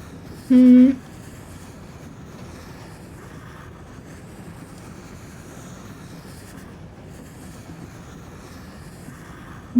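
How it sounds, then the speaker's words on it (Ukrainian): Train ride in the game Little Misfortune, a low, steady rumbling rail drone running throughout, broken by a short tonal beep near the start. "З другої сторони, ми на поїзді. Це швидше, ніж йти пішком."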